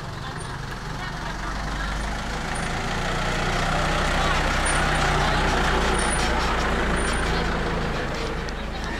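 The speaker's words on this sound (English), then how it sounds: "so we got a big truck coming in here now" A big truck pulling in on a street in Bali, its deep engine rumble swelling as it draws near and holding loud and steady, with a faint voice underneath.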